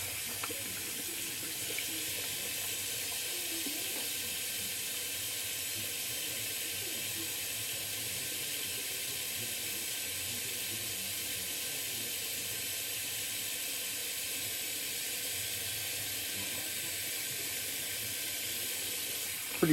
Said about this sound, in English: Just running some water through my brush here.